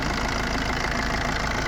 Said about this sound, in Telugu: చూడండి, ఇంజిన్ స్టార్ట్ చేసినప్పుడు